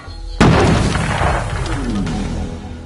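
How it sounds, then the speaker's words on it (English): A single loud bomb blast booms suddenly in the video game We Happy Few, then rumbles and crackles as it slowly fades. "They're bombing us again!"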